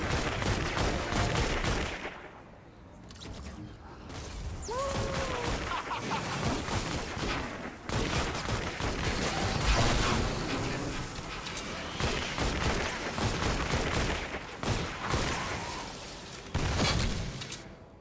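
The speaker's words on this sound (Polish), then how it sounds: "Kto jeszcze tu strzela do mnie?" Enemies fire at the player in Fortnite: Save the World while the Dragon's Roar weapon is being tested: loud, nearly continuous volleys of gunshots with short lulls between bursts and a few sharp cracks.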